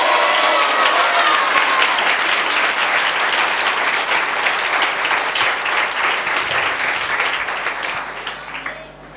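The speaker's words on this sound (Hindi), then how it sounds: "जो विश्वास करेंगे वे तालियां बजाएंगे प्रभु को।" A church congregation at a Hindi-language worship service breaks into sustained, dense applause that stays loud for about eight seconds, then begins to thin and fade toward the end.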